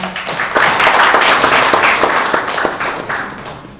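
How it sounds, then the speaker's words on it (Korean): Applause at a policy forum on construction technology in the National Assembly, welcoming a university professor as moderator; a hall full of hands clapping in a fast, even patter, loud and sustained, fading slightly toward the end. "토론회를 진행해 주실 서울과학기술대학교 김성우 교수님께 한 박수 부탁드리겠습니다."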